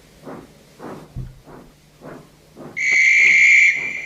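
Soft rhythmic puffing like a steam engine, then a loud shrill guard's whistle blast that holds steadily for over a second.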